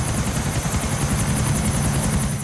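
A helicopter in the GTA video game gives off a loud, continuous close rotor chop with a dense, rapid beat and a steady engine whine, heard alone without speech.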